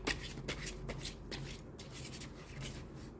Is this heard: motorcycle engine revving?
no